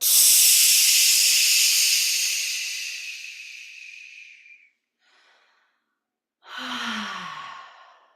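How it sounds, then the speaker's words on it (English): A long, loud breathy exhale during a breathing exercise, fading slowly over several seconds, followed by a brief faint breath and then a second strong sighing exhale close to the mic. "Hands to the side and exhale."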